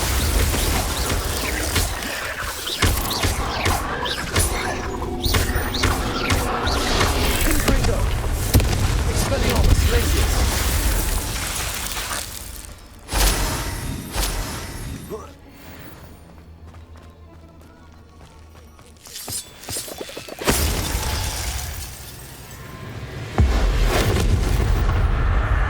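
Spell impacts from Hogwarts Legacy, a fiery Confringo blast and icy Glacius hit, heard as heavy booms and thuds amid busy combat noise, loud and dense with a quieter lull midway, with speech at times.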